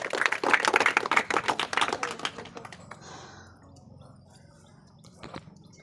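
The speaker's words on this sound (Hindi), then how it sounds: "इनके लिए भी ताली बजा दीजिए आप लोग" Students at a village coaching class's Teachers' Day event clap for a classmate, with dense applause for about two seconds that thins to scattered claps and fades into quiet room noise.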